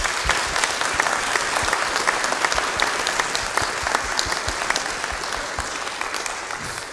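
A church audience gives a full round of applause that sounds dense and sustained. It holds steady for several seconds with a faint crowd murmur underneath.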